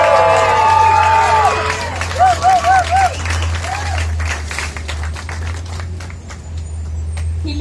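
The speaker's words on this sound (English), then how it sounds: "Let's give him a big round of applause, guys." A crowd at Teddy Riley's Hollywood Walk of Fame ceremony applauds and cheers outdoors, with steady clapping, a few whoops and whistles near the start, and talking mixed in.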